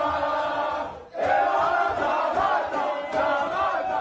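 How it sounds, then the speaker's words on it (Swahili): Tanzania national team players cheer and chant together after a football match in Morocco, a loud sustained group shout with a brief dip before it swells again. "Ni shangwe za wachezaji wa timu ya taifa ya Tanzania baada ya kumalizika kwa dakika 90 za mchezo"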